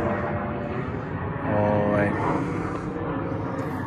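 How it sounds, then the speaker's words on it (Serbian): A low airplane rumble drones overhead in Belgrade through most of the stretch, swelling briefly, while a person talks nearby. "Avion."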